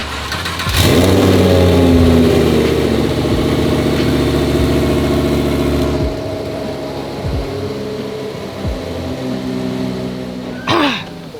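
A car engine cranks and fires up loudly nearby, gives a quick rev, then settles into a steady idle before being moved from the lift onto a dyno, with a few faint knocks and a brief sharp burst near the end.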